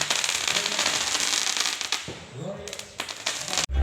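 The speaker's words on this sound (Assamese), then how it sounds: "এয়া চাওক বোমা ফুটাই আছে" Firecrackers go off at an evening cultural festival in Shilbari Awadi Para, Bijni, sounding as dense, loud crackling bursts that fill the scene and then thin out into scattered pops, with voices and crowd noise mixed underneath.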